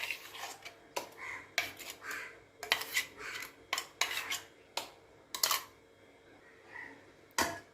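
A spoon mixes ingredients in a bowl, giving a series of sharp, irregular clinks and scrapes against the bowl with short quiet gaps between strokes, close and fairly soft.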